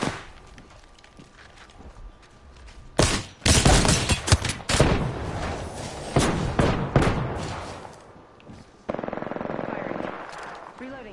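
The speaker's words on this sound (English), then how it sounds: "Getting shot at." Loud, close automatic gunfire in Apex Legends rattles in rapid bursts and scattered shots over several seconds, with the intensity rising and falling between volleys.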